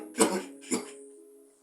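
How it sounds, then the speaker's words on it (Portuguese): Two sharp coughs about half a second apart from a man with a cough, close and fairly loud, fading into quiet. "Pena que eu estou assim com tosse"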